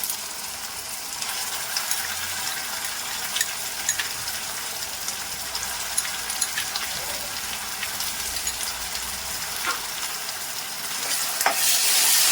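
Half a kilo of chicken with ginger garlic paste sizzling and being stirred in a pan, a steady close hiss with occasional scraping clicks from the spoon, no voices.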